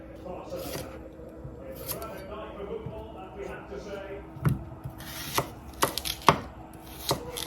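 A knife chops cucumber and tomato for a shirazi-style salad, giving scattered soft cuts that build into sharper, louder knocks on the board near the end, with faint background talk.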